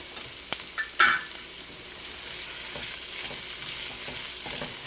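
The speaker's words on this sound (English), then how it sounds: "Next, we're going to add our onions." Onions and baking soda frying in a pan make a steady broadband sizzle throughout, with a few sharper clatters of stirring near the start before the hiss settles into a continuous crackle.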